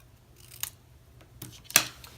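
Paper snips trim a sheet of paper during card making, giving a few sharp metallic snips, faint at first and then one louder, crisp cut near the end, in a quiet room.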